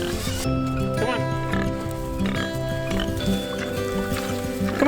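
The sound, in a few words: pigs oinking on a farm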